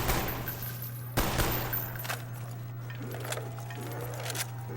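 Gunfire in the video game Black Ops 1 Zombies, with a sharp sniper rifle crack followed by a few scattered, fainter shots over a steady low hum and game background noise.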